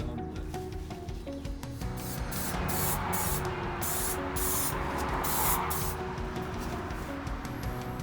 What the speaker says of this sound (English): We're going to be spraying the metal work of the van and also the carpet